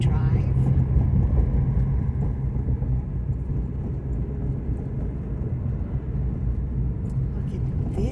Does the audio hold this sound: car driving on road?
yes